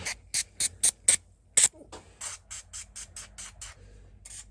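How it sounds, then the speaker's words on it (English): WD-40 lubricant is sprayed onto the door hinges of a Ford Transit Connect camper van in a series of short, sharp hissing bursts, about fifteen in quick rhythm, close and loud in otherwise quiet surroundings. "Just gonna grab some WD-40, slap it on those, spray it on those"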